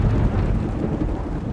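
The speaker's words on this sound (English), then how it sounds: "the weather suddenly turned dark and it started to rain heavily" Thunder rumbles with heavy rain pouring steadily, a dense low roar filling the short stretch at constant loudness, with no voices.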